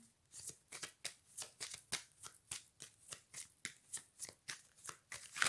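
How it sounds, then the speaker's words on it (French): A deck of oracle cards being shuffled and riffled, soft rapid rhythmic flicks repeating steadily at close range and quiet, with no talking over them. "Alors, on prend une dernière carte."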